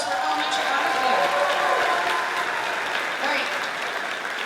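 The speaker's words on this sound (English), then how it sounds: "How about another round of applause for elementary honors band?" Sustained audience applause at an elementary honors band performance during a school band festival at Penndale, steady and dense throughout with no talk over it.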